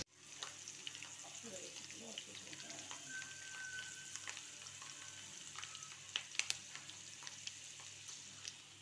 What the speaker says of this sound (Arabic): والكوكوط ديال الدجاج ها هي الدجاج كيتقلى